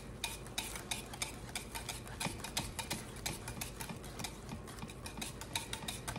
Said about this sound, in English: keep stirring this till it gets to a very shiny Vaseline looking stage